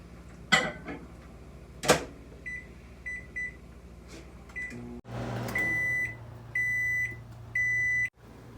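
A microwave oven hums steadily while it runs, then gives three evenly spaced high beeps at the end, after a few clicks and door knocks. The sounds are close and clear.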